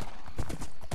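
Horse hooves clip-clopping in the Minecraft video game, a quick run of hollow, evenly spaced hoof clops over about a second, loud and close with steady game ambience behind them.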